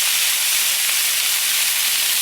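Steam hisses loudly and steadily from food trapped under a dome on a Blackstone griddle, a bright, continuous spray-like sizzle with no pauses.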